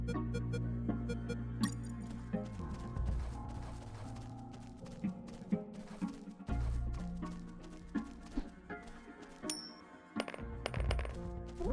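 In the stealth video game UnMetal, a coin drops onto the ground with a bright metallic clink, heard over steady game music and ambient effects, with several sharp ticks scattered through the stretch.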